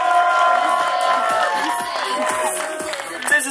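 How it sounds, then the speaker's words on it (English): Audience at an awards ceremony and closing party applauds and cheers for Jolanda, the camp owner, a loud steady wash of clapping and crowd noise filling the whole moment. "one big applause please for Jolanda"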